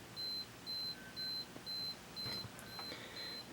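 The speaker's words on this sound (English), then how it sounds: "it's counting down the timer. We can hear the beeping sound." A Minolta Maxxum 7000 camera self-timer beeps in an even rhythm, about seven short high-pitched tones spaced roughly half a second apart, quiet and close, with faint handling noises around them.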